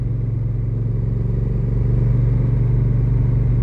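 A Honda motorcycle engine idling steadily, a loud close low-pitched throb with an even, smooth pulse that holds constant throughout, without any revving or talking.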